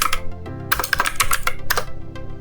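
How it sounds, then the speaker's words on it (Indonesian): Quick bursts of keystrokes tap on a computer keyboard in a Windows setup, close and crisp, in irregular clusters with short pauses between them. "Bisa ketik aja di sini UMI."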